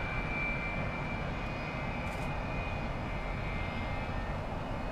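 An MD-83 jet airliner on the runway at Miami Airport gives a steady, continuous engine roar heard from a distance, an even broadband rumble holding at a constant level throughout with no voices.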